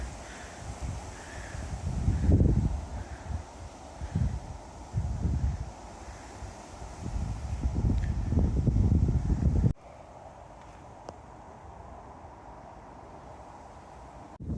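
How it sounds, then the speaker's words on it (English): Gusty wind on open moorland at Nicky Nook, Forest of Bowland, Lancashire, roars across the microphone in uneven bursts, then drops abruptly to a quieter steady outdoor hush. "it's just a bit windy up here"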